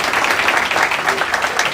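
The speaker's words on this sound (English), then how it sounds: "give him a big round of applause" A rally crowd applauds for Councilman Viru Patel at his re-election event, a steady dense wash of clapping that holds at a fairly loud level throughout with no break.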